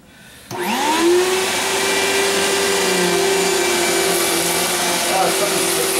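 A Riccar or Bissell vacuum cleaner, long unused and with a motor that sounds off, switches on and runs at a steady loud whine, a constant motor tone with airy hiss and no talking.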